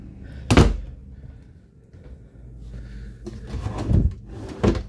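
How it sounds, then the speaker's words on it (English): Drawers in the interior of a 2024 Allegro Bus motorhome sliding open and shut, with sharp close thuds, one early and a cluster of bumps near the end, and quiet rummaging between. "Drawer."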